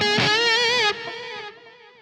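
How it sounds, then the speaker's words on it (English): An electric guitar plays a loud, sustained distorted note through a delay effect, then the note steps down as its repeating echoes trail off and fade. "That delay, that's the delay,"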